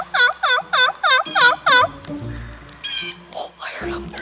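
A wild turkey gobbling in an open field: six rapid, warbling calls in quick succession, followed by quieter, scattered background sounds.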